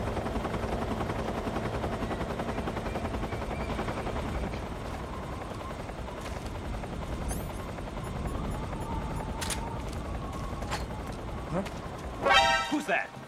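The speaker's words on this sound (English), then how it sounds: "Well, now I got a helicopter." Helicopter rotor thumping steadily through the Metal Gear game soundscape, a continuous low drone that stays fairly prominent for most of the stretch, with a brief sharp burst of effects near the end.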